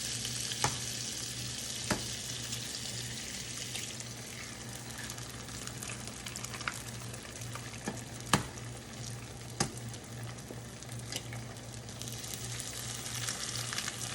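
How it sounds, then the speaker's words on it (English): Eggs frying in butter in a pan, a steady close sizzle and crackle with occasional sharp pops, heard alone without talking. "Then we're gonna break our eggs into our butter."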